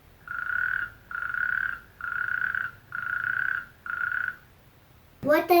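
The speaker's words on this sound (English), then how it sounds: "Here's what a toad sounds like." A toad croaks in five long, even trills spaced about a second apart, loud and close, before a brief, different sound cuts in at the end.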